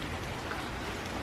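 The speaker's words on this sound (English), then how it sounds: "and it's just drizzling." Light drizzle falling during Hurricane Hermine, a soft, even patter of raindrops on surfaces that is faint and continuous with no voices.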